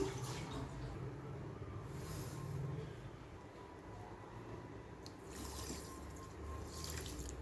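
Water is poured into a kadai holding two cups of sugar to start a syrup for double ka meetha, a steady splashing stream of moderate loudness that surges a few times, with no talking.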